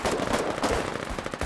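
Battlefield combat in the war video game Foxhole with a grenade blast amid dense, continuous crackling gunfire; loud, busy and chaotic throughout, with no single explosion standing clearly apart from the barrage.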